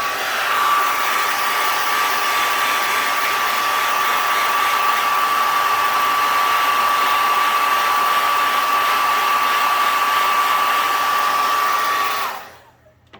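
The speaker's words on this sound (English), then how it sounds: "Now let me hit this with the hair dryer a little bit." A hair dryer blows steadily at close range with a constant whine for about twelve seconds, then cuts off abruptly.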